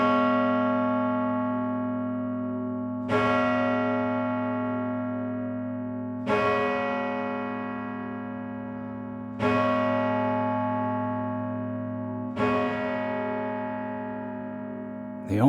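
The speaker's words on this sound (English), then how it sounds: "that bell ringing in the clock tower of what used to be the Second Congressional Church" A clock tower bell in the old Second Congressional Church in Nantucket tolls five slow, evenly spaced strokes, each ringing out and fading into a long hum before the next.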